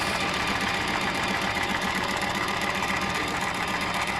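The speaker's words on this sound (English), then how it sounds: "I'm going to sew that along" A sewing machine runs continuously at a steady, fast rhythm, its needle chattering evenly throughout at close range.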